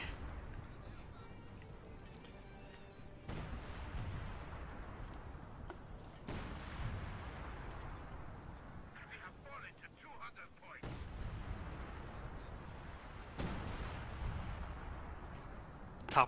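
In the Company of Heroes 2 video game, a Sturmtiger fires several heavy booming shots spaced a few seconds apart, each a sharp blast with a rumbling tail, under ongoing game commentary.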